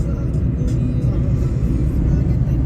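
A car overtaking on a road, heard from inside a moving vehicle as a steady, loud low engine and road rumble that holds throughout with no clear pass-by peak.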